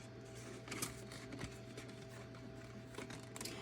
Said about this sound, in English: My printer's going off. I don't know why.